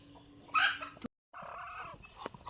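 A Chinese duck, a Muscovy, gives a short, faint, raspy call at a village homestead, followed by a brief pause and a quieter second call.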